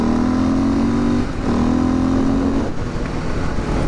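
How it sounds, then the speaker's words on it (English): A 2016 Husqvarna FE 501 S motorcycle on its stock exhaust idles and then blips the throttle, a loud, close single-cylinder thump with two short revs rising and dropping back. "the exhaust is actually decently loud for being a stock exhaust"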